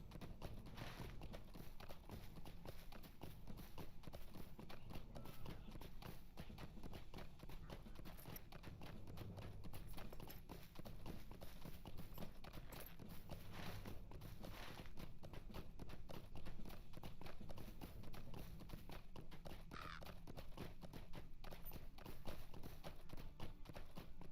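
Horse hooves clip-clop in a steady, rapid rhythm during riding in the video game Lord of the Rings Online, continuous and fairly quiet across the whole stretch.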